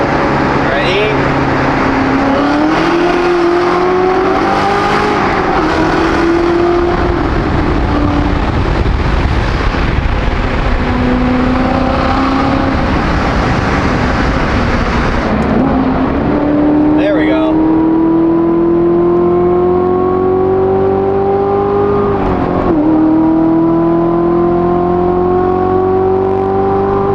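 A Corvette with no exhaust revs and pulls through a road tunnel, its loud echoing engine note rising in pitch over and over across the stretch, with wind rush throughout.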